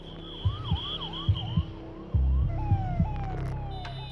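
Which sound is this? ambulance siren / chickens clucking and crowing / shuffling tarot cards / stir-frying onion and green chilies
ambulance siren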